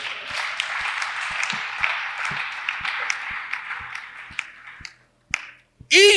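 Applause from an audience at a Christian leaders' conference, a dense wash of clapping with distinct sharp claps running through it, fading out near the end before a brief burst of voice.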